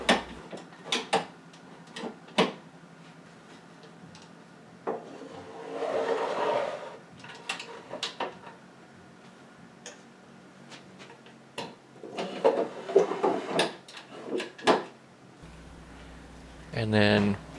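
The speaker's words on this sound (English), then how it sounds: "put the nice drawers back into drawer slides" Wooden drawers of an antique 1899-1904 STANDARD treadle sewing machine cabinet slide in and knock shut, giving scattered clicks and thumps with a few longer scraping slides, some fairly close.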